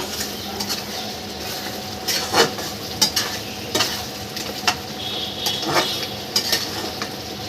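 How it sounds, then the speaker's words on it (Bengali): Masala of ginger and cumin paste with fried onion and garlic sizzles steadily in a pan for egg biryani, with a spoon stirring and scraping and several sharp clinks against the metal. No talking. "পেঁয়াজ রসুন ভেজে মশলাটা ফোটাতে দিলাম"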